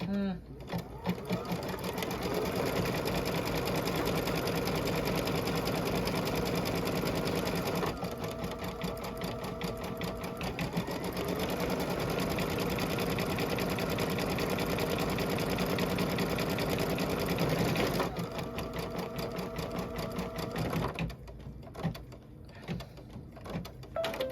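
An embroidery machine in a hoop stitches a small buttonhole, running in fast, steady mechanical bursts with short pauses and shifts in pace, ending in a few uneven stitches.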